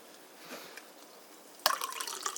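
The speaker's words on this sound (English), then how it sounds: "you pour in the strong coffee halfway into the mug from this percolator" Strong coffee poured from a percolator into a mug: a few faint drips at first, then a sudden close splashing pour that continues to the end, with no talking.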